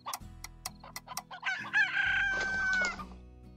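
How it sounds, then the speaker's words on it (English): Chickens in the video game Slime Rancher cluck and a rooster crows, with several short bursts of clucking followed by a louder, sustained crow, all fairly close and with no talking. "I already heard plenty of chickens going at it before you..."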